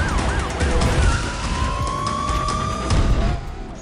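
A police siren wails in the racing video game Need for Speed Undercover, rising and sweeping steadily over a loud, constant engine roar and road noise during a high-speed chase.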